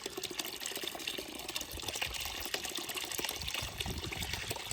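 Water poured from a bucket, a steady splashing rush that keeps going under outdoor background noise, fairly close.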